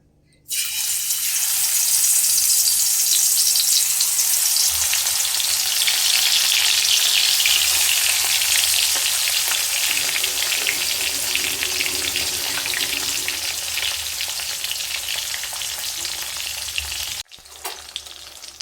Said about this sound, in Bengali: এবার মাছগুলো একে একে ভেজে তুলে নিব।